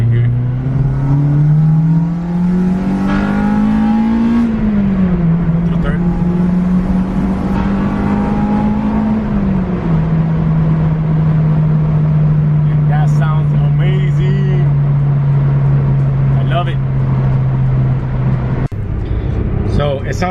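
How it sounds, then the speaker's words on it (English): Acura RSX DC5 with a VTEC engine, hybrid racing parts and a ground kit, revving hard through second gear on a road. The engine note climbs, dips at a shift and climbs again before holding a loud steady drone heard from inside. "So let's go hear that VTEC."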